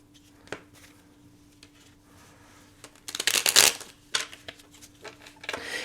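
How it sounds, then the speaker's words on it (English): Tarot cards are shuffled by hand: faint scattered riffles at first, then a louder burst of rapid flapping and crisp snaps, with a few more shuffles after it. "Maybe another one because these were pretty weak shuffles."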